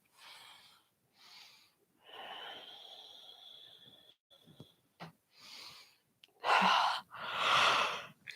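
People in a yoga class breathe out in long, audible yawns and sighs, several airy exhales in turn, quiet and close in a still room.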